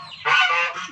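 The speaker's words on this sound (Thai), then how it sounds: "ตัวนี้เป็นเป็ด เป็ดอีกรุ่นนึง" Ducks on a Thai poultry farm let out a loud, close honking call that swells suddenly and holds for about half a second over a low background murmur.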